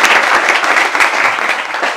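Audience clapping in a classroom, a dense, steady round of applause that fills the whole stretch at close range with no talk over it.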